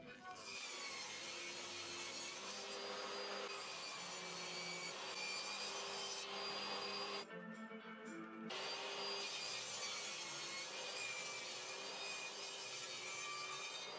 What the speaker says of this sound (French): J'ai coupé le contreplaqué nécessaire avec ma scie circulaire, puis j'ai fait les coupes précises à la scie sur table.